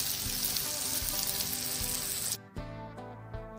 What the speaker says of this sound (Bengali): যতক্ষণ না চিংড়ি মাছটা ভাজা ভাজা হয়